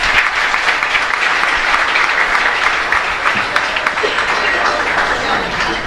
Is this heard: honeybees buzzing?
no